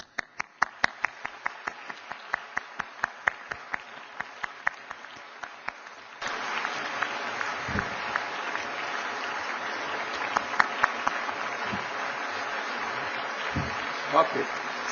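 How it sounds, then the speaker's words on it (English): An audience at an international award ceremony honouring prize winners breaks into applause, starting as sparse rhythmic claps that swell midway into a dense, steady ovation filling the hall, with occasional low thumps. "They are worth our applause."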